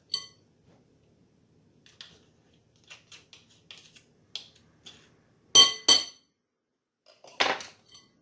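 A fork clinks and taps against a bowl while breaking up a tablespoon of butter, a series of sparse, sharp light clicks separated by quiet gaps.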